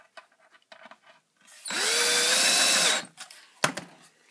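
A power drill whirs loudly for about a second and a half while driving a screw into wood on a ski holder box, set between quieter handling clatter and a sharp knock.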